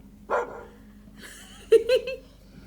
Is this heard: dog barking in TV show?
yes